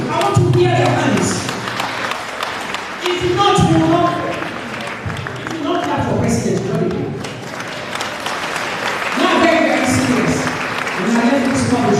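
A congregation at a morning prayer gathering claps and cheers steadily throughout, dense applause with voices mixed in, loud and sustained with brief dips.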